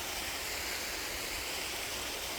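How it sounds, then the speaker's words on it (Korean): Mountain valley waterfall in a rural hillside setting, a steady, dense rush of falling water close by, continuous and unbroken with no voices. "이 둔내 산골에서 이렇게 맑고 예쁜 폭포 보기가 또 쉽지가 않은데"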